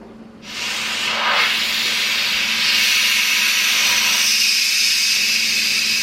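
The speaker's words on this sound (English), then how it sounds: "you can hear the steam coming out" Steam rushes from the release valve of a Cosori pressure cooker, a loud, steady, close hiss that bursts on abruptly after a brief quiet start and holds constant to the end.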